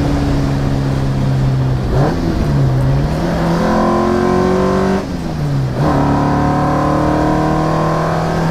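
An Alfa Romeo 1750 GTV with short gearing accelerates hard through several gears, its pitch climbing, dropping at each shift, then climbing again, loud and close with no talking.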